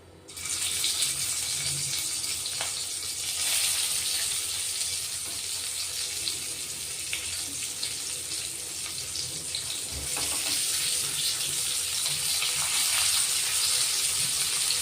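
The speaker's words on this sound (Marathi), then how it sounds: "तेल गरम झालंय आपण आता हे कारले ठेवून घेऊ" Stuffed bitter gourd (karela) frying in hot oil in a pan on the stove, a loud continuous hissing sizzle that runs steadily the whole time, without any talking.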